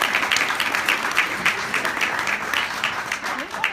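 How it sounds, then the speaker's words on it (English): An audience at a marketing keynote event gives a round of applause, a steady wash of many hands clapping throughout, moderately loud with no break. "Give them a round of applause"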